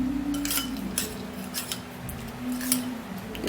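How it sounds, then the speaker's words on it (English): A utensil stirs a thick honey mixture in a bowl, giving quiet repeated scraping and clinking strokes at close range, with no talking. "I'm actually going to be putting it into the honey mix, and then mix it up really good"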